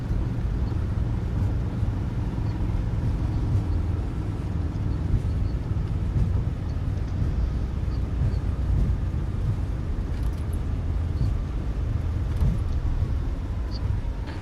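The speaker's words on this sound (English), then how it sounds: "Reverse thrust." Reverse thrust on an airliner just after landing in a flight simulator game, a steady loud engine roar with low rumble that holds evenly throughout, with no pauses.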